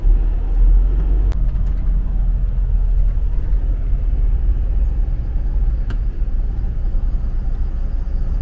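Road traffic near Seattle, heard from inside a truck on Interstate 5 in Renton, Washington, as a loud steady low engine and road rumble with a couple of faint clicks, continuous throughout with no talking.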